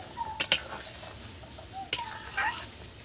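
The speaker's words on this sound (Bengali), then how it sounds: "এবার এটাকে ভালো করে একটু নেড়ে চেড়ে দেবো।" A spoon stirs spices in a pot of ghugni cooked with goat fat, giving a few soft, scattered metallic clinks against a quiet kitchen background.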